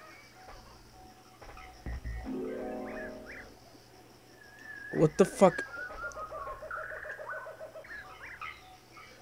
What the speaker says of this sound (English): Gotta wait for this bird to pass by.